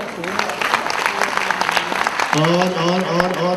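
A crowd at a bank's platinum jubilee celebration claps loudly and steadily, with a voice speaking over the applause and growing more prominent toward the end.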